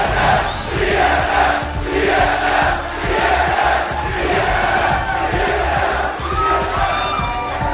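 A large esports crowd at a Dota 2 North American regional tournament at PAX Prime 2013 roars and cheers in a loud, sustained wave, with individual shouts rising and falling throughout.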